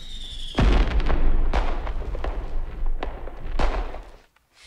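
Fireworks explode in a horror movie scene, a loud sudden boom after a brief rising whistle, followed by a rumbling run of crackling bursts and pops that fades out.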